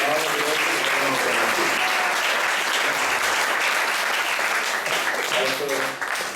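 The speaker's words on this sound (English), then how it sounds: "let's give her a round of applause for Kriti Mata" Steady audience applause fills a Sunday class at the ISKCON temple in Atlanta, a dense, even clapping that holds loud for about six seconds before thinning slightly at the end.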